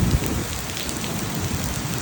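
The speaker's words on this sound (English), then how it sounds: "2 hours of non-stop rain and thunder." Heavy, steady torrential monsoon rain pours down in Kuala Lumpur, a loud continuous hiss of drops on surfaces with a low rumble underneath and no voices.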